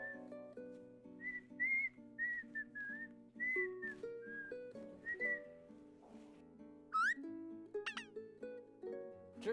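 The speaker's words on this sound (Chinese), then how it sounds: "还吹着口哨来" A person whistles a lively tune on arrival at a company office, a run of clear, bright melodic phrases up close, broken by short pauses and a few rising slides, with no talking over it.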